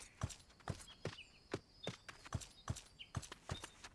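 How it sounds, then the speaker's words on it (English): A horse mount's hooves clop at a steady walking pace in Final Fantasy XIV, eight or nine crisp, evenly spaced footfalls, fairly faint, with light game effect chimes between them. "Like the horse actually clops."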